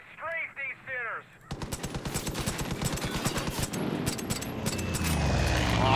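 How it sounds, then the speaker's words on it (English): Rapid machine gun strafing fire in Far Cry 5, a dense rattling burst that starts after a short voice and keeps hammering for several seconds, loud and close, with rumbling engine or explosion noise building underneath. "I'm gonna strafe these sinners."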